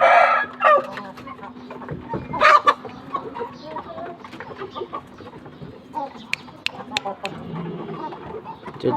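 A black Aseel rooster crows and clucks close by in short bursts, while someone talks over much of it.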